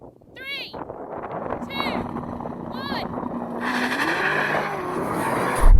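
Tesla Model S Plaid, Ferrari SF90 and Porsche 911 Turbo S launch side by side in a drag race, engines and tyres rising into a building roar with a hiss near the end, while someone talks excitedly over it.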